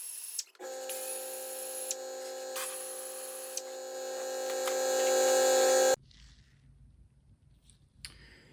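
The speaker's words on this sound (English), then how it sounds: "you notice I use an air gun to take them out, air ratchet" Air ratchet removing spark plugs from a Mercedes-Benz R-Class W251, a steady close high-pitched whirring buzz lasting about five seconds, then a sudden stop into quiet workshop clatter.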